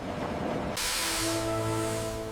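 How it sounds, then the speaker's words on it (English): Steam hisses from a restored locomotive in a forest setting, a sudden loud, sustained rush that bursts in and stays steady, with faint tonal ringing and a low rumble beneath it. "Steam rises in soft clouds, reflecting the light."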